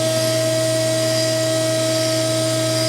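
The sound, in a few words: mandrel bender bending Chevy 3100 truck frame rail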